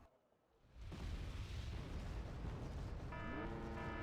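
Artillery bombardment in Wargame Red Dragon, a deep rumbling roar of explosions that swells after a brief quiet start and stays loud and dense, with a faint tonal whine near the end.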